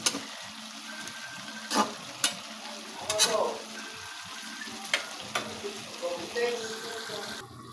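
Adobo made with dried papaya sizzles and fries in a pan, a steady crackle broken by several sharp stirring scrapes, close and moderately loud with a voice talking faintly nearby.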